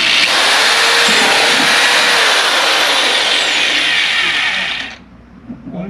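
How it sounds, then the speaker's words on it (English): A loud, steady power drill whines continuously for about five seconds, drilling holes in the floor of a 1985 Fox Body Mustang notchback, then cuts off abruptly, leaving quiet room noise. "let me drill these holes in here at the bottom floor"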